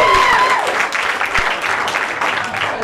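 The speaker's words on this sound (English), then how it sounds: "A round of applause for the people that did." A comedy club audience gives a brief round of applause, loud and close, with a dense wash of clapping and a few cheers mixed in.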